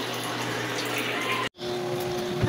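Water runs steadily from a shower during bathing, making a continuous broadband rush that cuts off abruptly for a moment before resuming.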